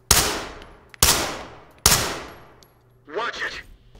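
Three loud gunshots in a SWAT police video game, each spaced about a second apart with a long ringing decay, followed by a short burst of a voice shouting.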